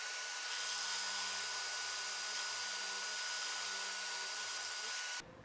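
An electric drill with a 9.5 mm bit bores into wood for a dowel hole in a coat rack, whining steadily and close for about five seconds before cutting off abruptly.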